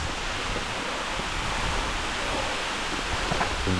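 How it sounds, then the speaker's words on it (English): Waterfall near Yogyakarta: a steady, full-bodied roar of rushing water, loud and close and even throughout, with no talk heard over it. "there it is, the real waterfall"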